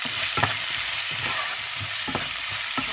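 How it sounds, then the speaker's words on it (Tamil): Tomato, onion and garlic sizzle steadily in a frying pan after mustard seeds have popped, a loud continuous frying hiss broken by soft stirring scrapes, close up and with no voices. "சும்மா ஒரு வதக்குங்க."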